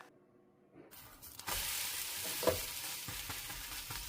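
Cabbage sautéing in butter in a pan gives a steady, close sizzle and crackle. It swells loudly after a quiet start, with a few sharp pops and stirring clatters and no voices.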